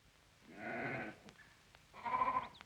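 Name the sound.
flock of sheep passing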